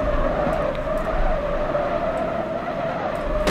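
Truck tires skid and spin while offroading in BeamNG.drive, on a worn-out square-body pickup climbing a hill. A steady, loud engine-and-tire drone holds throughout with no pause.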